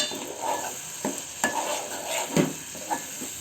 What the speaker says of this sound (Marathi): त्याच्यामध्ये आपण आता हळद घालून घेऊ मग लाल तिखट मसाला परतवून घ्या